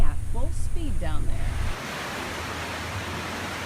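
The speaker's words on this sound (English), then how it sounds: "This video, shot by a 9 on Your Side weather spotter at the border, washes running at full speed down" Flash flood water rushes down a desert wash at the Nogales border as a dense, steady roar. A voice is briefly heard at the start before the churning water carries on alone.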